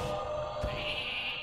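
Sheep bleating in the Hearthstone video game, one short wavering bleat heard clearly and alone.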